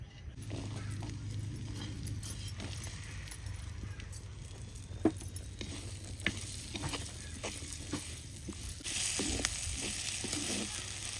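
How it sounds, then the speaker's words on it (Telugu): Onions frying in butter in a pan for paneer curry: a quiet, steady sizzle with occasional clinks and stirring scrapes, rising slightly louder near the end. "అదే బటర్లో మళ్ళీ కొన్ని ఆనియన్స్ కూడా వేసుకుందాం"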